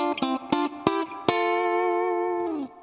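Tube-driven long-pan spring reverb in a Fender Super Sonic amplifier, heard as a few loud, bright guitar chords struck in quick succession, then one sustained chord ringing out with a lingering reverb tail before cutting off.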